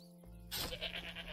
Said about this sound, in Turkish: Şurada koyunlar var